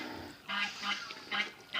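Muscovy ducks and white ducks on a farm give a series of four short, nasal quacks in a loose rhythm, close by and moderately loud over a quiet background.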